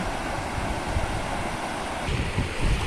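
Strong stream current rushing around legs while wading across a flooded creek on a rainy day, a steady broadband rush of water with gusty surges, close and continuous, no talk.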